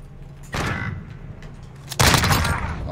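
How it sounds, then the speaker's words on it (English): Close, loud gunfire from the Modern Warfare video game: a burst near half a second, then a heavier volley from two seconds onward, over low background rumble. "He's shooting at me."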